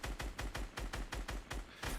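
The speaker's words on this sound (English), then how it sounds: "can you hear the skips in the rate of fire on this thing?" Automatic gunfire from Fortnite played on Nintendo Switch, a rapid run of about ten close shots whose spacing stutters unevenly instead of holding a constant rate.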